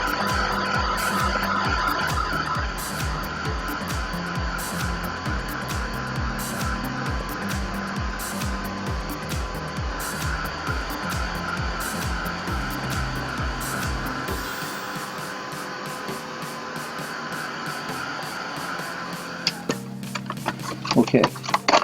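A handheld heat tool blows hot air to set craft ink, giving a steady close whirring drone with a fluttering motor pulse that runs for most of the time before cutting off near the end.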